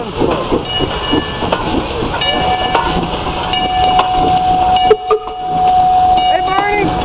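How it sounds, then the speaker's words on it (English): Lehigh Valley 126 steam locomotive pulls into a wild west depot, a loud rumbling, hissing train with rail clatter and brief whistle-like tones, people talking over it. "Train pulling into the depot."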